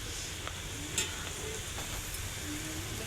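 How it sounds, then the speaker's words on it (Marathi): Garlic frying in oil in a home kitchen pan gives a steady, continuous sizzle with a few faint crackles and no talking. "आणि इथं आपलं लसूण याला तळून घ्यायचा चांगला मस्त पाहिजे"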